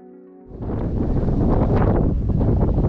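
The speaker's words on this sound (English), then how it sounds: "We're in the windiest place in Baja." Strong wind gusting straight into the microphone in La Ventana, Baja, Mexico, a heavy roaring rumble that starts abruptly after a short musical lead-in and stays loud throughout.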